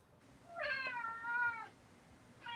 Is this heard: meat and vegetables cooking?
no